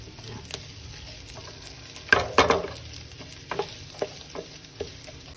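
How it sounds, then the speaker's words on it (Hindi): Onions sizzle steadily in a pan, with a louder burst of frying and stirring partway through and a few scraping clatters afterward. "अब इसमें हम प्याज को कर लेते हैं सोते"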